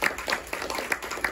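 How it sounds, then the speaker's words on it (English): An audience applauds at a history lecture in a short, steady burst of mixed clapping that fills the room, moderately loud and without voices. "let's give a big round of applause for Lark"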